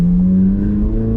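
Chevrolet Corvette C8 Z06 engine with a throttle controller set to ludicrous mode, giving a loud, close, steady droning rev under light throttle for about a second.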